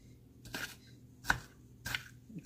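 Four crisp chopping strokes of a manual chopper cutting red peppers land at a slow, uneven pace, each a short crunchy burst, close by with quiet pauses between.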